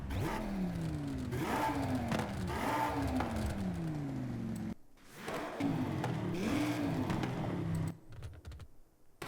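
Loud, raspy Audi RS3 engine revs in Forza Horizon 5 rise and fall repeatedly, sweeping up quickly in pitch, with a brief dip in level before revving again.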